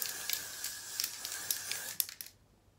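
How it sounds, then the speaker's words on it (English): Hairspray hisses from a can onto short hair as a few close, bright spray bursts run together for about two seconds, then stop abruptly into near silence. "Yeah, so I'm just gonna give it a spray."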